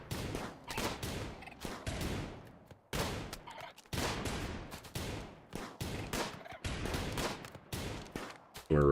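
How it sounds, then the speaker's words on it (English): Rapid bursts of gunfire from the colony game RimWorld, many overlapping shots in a dense, continuous volley with brief pauses, loud and close throughout. "Some cool shooting training for the entire gang."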